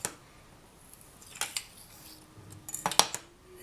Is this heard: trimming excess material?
yes